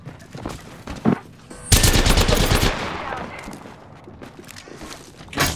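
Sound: gunfire in Apex Legends video game

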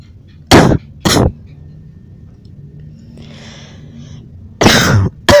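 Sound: cough

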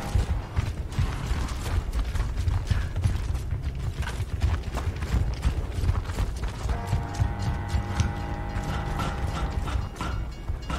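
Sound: train passing in video game Gears of War

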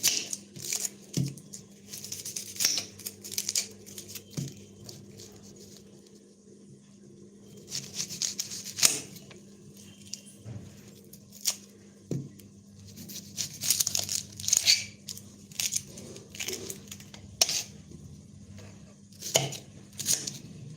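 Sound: onion chopping machine cutting onions for an omelette

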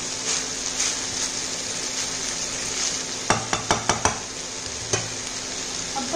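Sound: stirring vegetable pulao with spices

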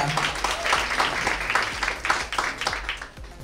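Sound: audience applause for Pierre Dulanto

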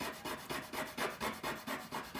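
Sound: rubbing a blending stump to clean it

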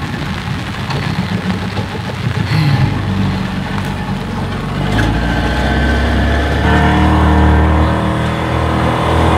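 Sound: motorboat engine on the Essequibo River

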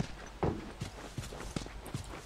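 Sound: horse hooves in the video game The Last of Us

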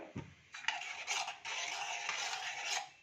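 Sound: sautéing and stirring in a pan

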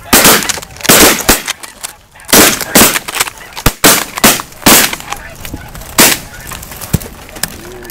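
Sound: migrating spring snow geese honking during a hunt

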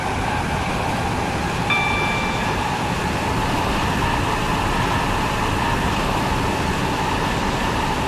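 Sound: train approaching a station

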